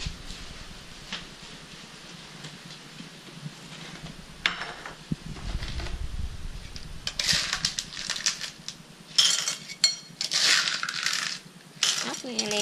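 Small ốc lá snail shells, for stir-frying with tamarind, clink and rattle against each other and a dish in quick, irregular bursts, up close and fairly quiet, in a Bến Tre countryside kitchen.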